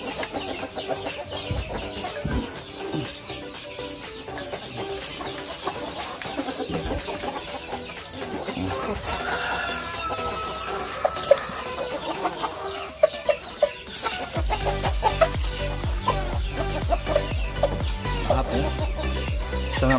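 Siamese chickens cluck and fuss nearby while pecking at bread and bran, a steady busy texture of bird calls with a denser, louder stretch toward the end.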